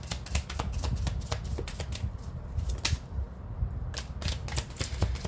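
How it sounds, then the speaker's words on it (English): Tarot cards are shuffled by hand in rapid bursts of crisp riffling clicks and snaps, close and fairly loud, pausing briefly midway before the quick shuffling resumes. "So when I'm shuffling this last time, I can feel the change in energy."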